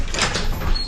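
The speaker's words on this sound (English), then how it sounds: "These doors are automatic" Automatic sliding doors on the starboard upper deck of the Crown Princess cruise ship glide open slowly, a short close mechanical whir and rumble heard alone.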